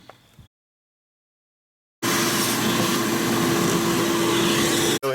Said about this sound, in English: We'll vacuum some of that out.